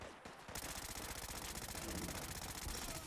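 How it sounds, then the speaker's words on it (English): Rapid sustained SMG gunfire in Fallout 4, a loud continuous automatic burst of shots from a modded UZK50Gi submachine gun, close and dense with no pause. "But I guess we can get started shooting at these guys."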